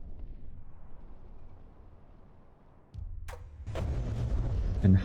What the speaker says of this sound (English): Due to the cram cannon being damaged, it's as said, mostly firing blanks